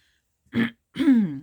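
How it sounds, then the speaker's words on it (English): Two short, close throat clearings in quick succession, the second longer and rougher, in an otherwise quiet room. "Excuse me, having to clear my throat."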